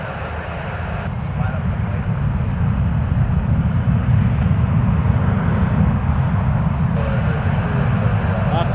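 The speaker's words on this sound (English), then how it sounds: "This is a 33-year-old Airbus A320." A 33-year-old Air Canada Airbus A320 airliner passes at Toronto Pearson Airport, a steady, loud broadband engine roar that swells slightly and holds throughout, with low rumble dominant.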